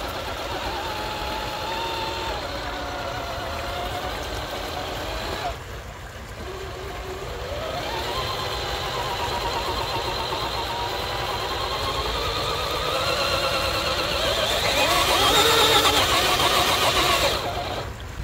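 FMS FCX10 1/10 scale RC crawler truck climbing a steep test slope, its electric motor whining continuously and rising in pitch as wheel speed increases, near and loud, with a brief dip midway.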